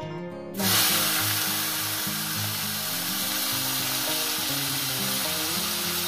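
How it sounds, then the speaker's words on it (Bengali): Parshe fish drop into hot oil seasoned with salt and turmeric, a sudden loud, steady sizzle that holds throughout, with melodic background music running underneath. "মাছগুলো দিয়ে আমি সুন্দর করে একটু ভেজে নেব।"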